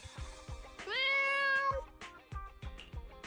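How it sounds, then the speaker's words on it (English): A cat meows in the video game Zenless Zone Zero, one drawn-out, clear meow rising over a rhythmic backing of soft percussive game music. "That sound. Has Nekomata become a real cat"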